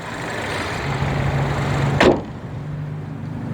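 The bonnet of a Jaecoo J7 Glacier SUV drops shut with a single solid, close thud, preceded by a low steady hum and then a quieter settle afterward.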